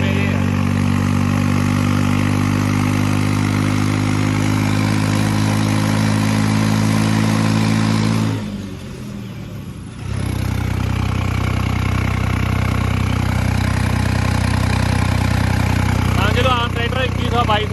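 A tractor hauling a heavily loaded single-axle sugarcane trolley idles with a steady low diesel throb, dips briefly as if throttled down, then resumes its constant loud rumble.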